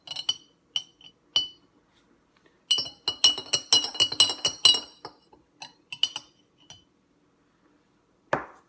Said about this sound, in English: I have a spoon here too, so I can mix it up, get it nice and even